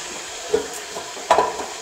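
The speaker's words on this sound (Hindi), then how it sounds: "अब इसको अच्छे से मिक्स करेंगे।" A spoon stirs chicken and rice together in a pot while making biryani pulao, two brief soft scraping clinks against the metal, close and otherwise quiet.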